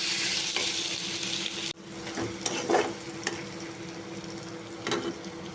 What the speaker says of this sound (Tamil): வெங்காயமும் கருவாடையும் சேர்த்து ஒன்றா வேகிற அளவுக்கு வணக்க போகிறோம்.